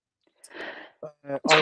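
A single close, loud sneeze with a sharp burst, followed right after by a few brief spoken words.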